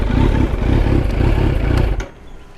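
A Kawasaki Z900 motorcycle with an Akrapovic carbon full exhaust system idles with a deep, steady burbling rumble, close and loud, before cutting off abruptly near the end.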